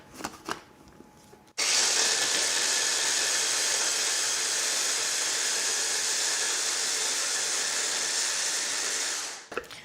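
A blender blitzes lemon and salt for a lamb kebab recipe, a loud steady whir that starts abruptly, runs unbroken for about eight seconds, then cuts off.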